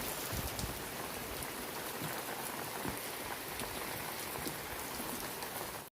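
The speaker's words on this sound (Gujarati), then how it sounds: "વરસાદ બહુ જ આવે છે." Steady rain pours down continuously on a farm during the monsoon, a dense, even hiss of drops striking surfaces close by, with no voices over it.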